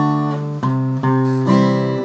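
Guitar plays a song's pattern of bass notes followed by strummed chords, picked bass strings then fuller strums in a steady groove, loud, close and without any talking.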